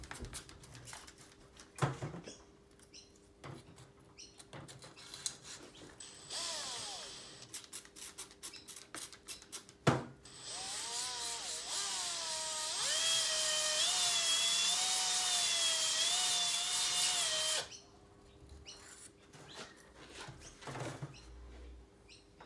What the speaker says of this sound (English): I'm going to jump straight into honing the block